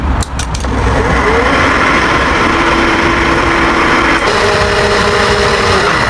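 A repaired electric radiator fan motor, wired directly to a battery, runs steadily and loudly up close, a continuous humming whir with a faint tonal whine throughout.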